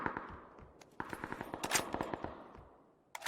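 An AK rifle fires in a video game in rapid bursts of cracking shots, a short volley followed by a longer sustained string, then a final shot after a brief pause.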